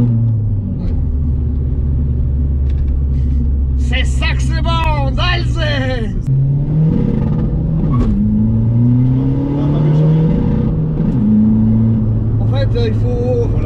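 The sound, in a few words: Seat Ibiza 1.9 TDI diesel car engine revving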